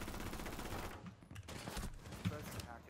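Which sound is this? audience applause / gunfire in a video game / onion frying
gunfire in a video game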